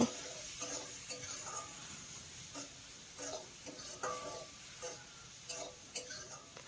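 Tomatoes frying in oil in a pan, a soft hiss under intermittent scraping and tapping of a spoon stirring them, close but quiet and irregular.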